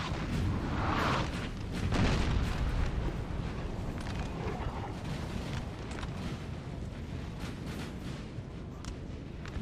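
French artillery fire in a Napoleonic Total War 3 battle at Auerstedt, heard as a dense, continuous rumble of distant cannon booms and crackling musketry with no clear separate shots.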